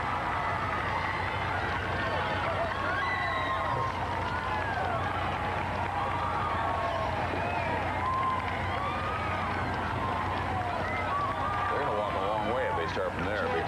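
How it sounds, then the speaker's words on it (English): Crowd applause along the 1989 presidential inauguration parade route, a dense continuous wash of clapping and cheering from a large outdoor crowd at steady loudness throughout. "Listen to the applause."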